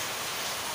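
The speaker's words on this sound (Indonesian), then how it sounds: "Sekarang di sini lagi hujan lumayan deras" Heavy rain pouring steadily in Indonesia, a dense, even hiss filling the short stretch without pauses or voices.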